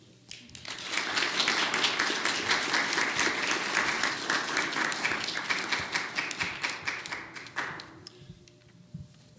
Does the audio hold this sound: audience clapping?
yes